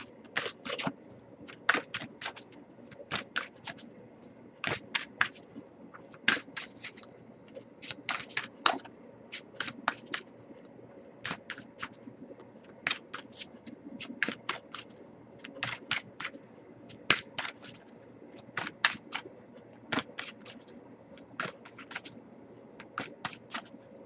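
Quick bursts of riffling tarot cards, repeated again and again in short crisp flurries with small pauses between them, close by and alone.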